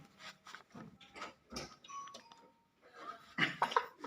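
A house doorbell rings in a brief two-tone chime partway through, set amid rustling, movement and bursts of background noise.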